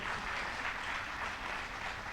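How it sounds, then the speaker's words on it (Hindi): Audience applause in a hall during a speech, a dense, even wash of clapping that holds steady throughout, with no voice over it. "सब लोग एक बार ताली बजाइए जो लोग इस हॉल में हैं अपने लिए"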